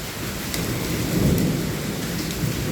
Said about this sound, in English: it's hailing. It's hailing right now.